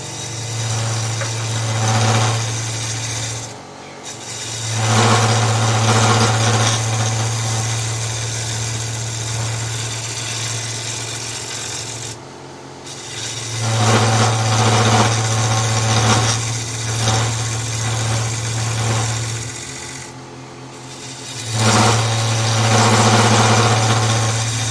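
A wood-turning gouge sharpened on a grinder: a loud, steady motor hum with grinding noise in long stretches, broken by three short pauses.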